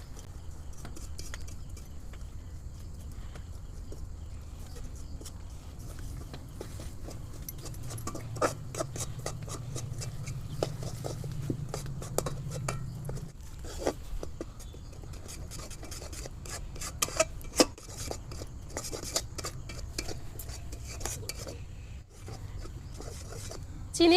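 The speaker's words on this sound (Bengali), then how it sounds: "এবার আমি নেড়ে দিচ্ছি।" Sugar caramel being stirred in a pan gives soft, continuous rubbing and scraping, fairly quiet and close, with occasional light clinks.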